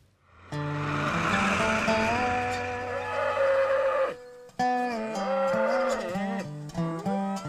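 Cattle mooing on a farm in Charles County, Maryland, a loud, drawn-out moo lasting several seconds followed by a second, shorter series of calls, close and clear with no talk.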